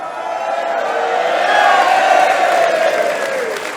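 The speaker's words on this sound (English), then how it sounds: "Standing ovation" A wrestling crowd in Manchester gives Marty Jones a standing ovation, loud sustained cheering and applause with whoops swelling and holding throughout.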